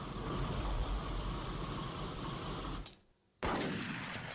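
A loud, dense shotgun sound effect from an Alien RPG sound board in Tabletop Simulator roars continuously, then cuts out briefly before bursting back in at full level.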